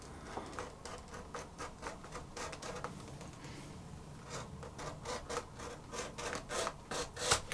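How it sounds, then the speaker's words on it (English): A clicker knife draws through a very thick piece of leather in a run of quick, rhythmic rasping strokes, close and fairly quiet, pausing briefly midway before resuming faster. "cut it out with my clicker knife"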